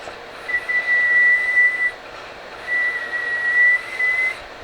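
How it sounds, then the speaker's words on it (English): Someone whistles a steady high note in two sustained bursts with a short pause between, over a quiet background hiss. "Let's see if we can do a whistle."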